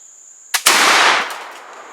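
A flintlock rifle fires at a bowling ball outdoors: a sharp priming crack followed a split second later by a loud booming main shot that rolls off and decays over about a second, with no talk.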